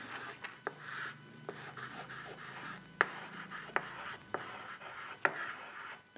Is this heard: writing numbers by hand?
yes